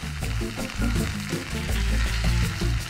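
Hash browns fry in a hot pan, a dense continuous sizzle broken by several soft scraping turns as the golden pieces are flipped over, close and fairly loud with no talking.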